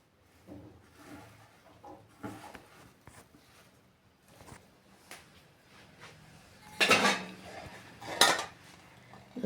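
Gobi manchurian batter of cauliflower is mixed by hand in a bowl with water sprinkled in gradually, heard as soft intermittent scraping and clinks against the bowl, growing louder toward the end.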